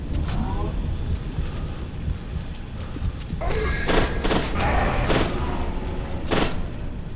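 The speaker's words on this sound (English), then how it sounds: "Why was I shooting at the fucking fire?" Gunfire in the video game F.E.A.R. 2, a dense burst of shots and booms that swells midway and stays loud over a constant game backdrop, with no talking.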